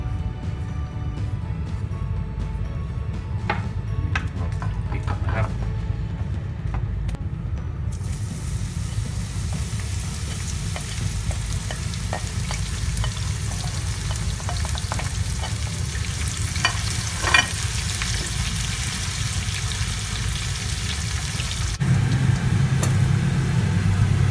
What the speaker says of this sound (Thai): จะทอดกระเทียมกับหอมแดงต่อนะครับ